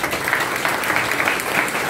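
A church congregation claps for the choir in steady, dense applause that stays close and even for the whole stretch, with no clear talking over it.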